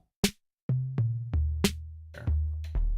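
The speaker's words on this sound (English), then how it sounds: "has the best clap, by the way. It's a little more synthetic." A synthetic drum machine clap rings out with sharp percussive hits and a low kick pattern, dry and close, no voices.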